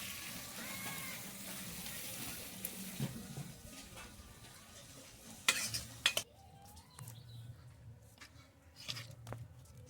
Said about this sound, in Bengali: এটা আমি ডাইরেক্টলি হাঁড়িটার মধ্যে ঢেলে দেবো ফোড়নটা